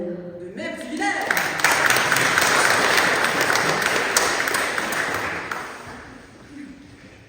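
A congregation at a Protestant Sunday harvest and back-to-school church service breaks into sustained applause, a dense wash of many hands clapping that builds quickly, holds for several seconds and then tapers off, with voices briefly audible at the start.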